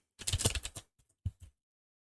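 A computer keyboard is typed on close by, with a quick burst of clustered keystrokes followed by a few isolated taps against silence.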